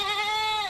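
A goat bleats once, a loud, close, wavering call that lasts under a second and stands alone, heard during a Wenatchee AppleSox baseball game broadcast.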